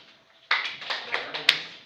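A single hand clap, given as an Australian-style greeting during a group activity, lands sharply, followed by a few lighter taps and claps in a room.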